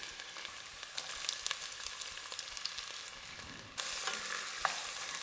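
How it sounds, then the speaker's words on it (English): Potatoes and carrots sautéing in a pan for Mexican noodle soup, a steady close sizzle and crackle with light stirring scrapes, getting louder and brighter partway through. "Saute the potatoes and carrots for about 5 minutes."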